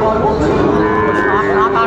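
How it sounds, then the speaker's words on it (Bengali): A Sahiwal bull calf at a Bagerhat cattle farm lets out one long, loud, close moo that fills the whole moment. "সাইওয়াল বাচ্চা আমরা দেখছিলাম এখানে, বেশ সুন্দর একটি বাচ্চা"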